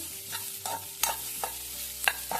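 Chopped onion frying in oil with a pinch of salt in a pan, for vegetable upma; a steady close sizzle with several sharp scraping stirs of a spoon against the pan, no talking.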